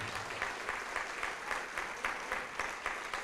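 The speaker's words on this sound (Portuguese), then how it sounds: "vamos aplaudir mais ao nome do Senhor" A church congregation claps steadily in a faint, rhythmic patter, the beats landing in a regular pulse as if keeping time, with no clear speech over it.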